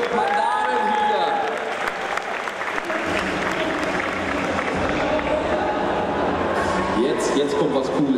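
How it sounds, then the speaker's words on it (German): A convention crowd at a Blizzard costume contest applauds participants dressed as Pandaren, loud sustained clapping and cheering with voices mixed in throughout. "Großen Applaus für Yvonne Heidke und Lothar Busse, unsere Pandaren hier."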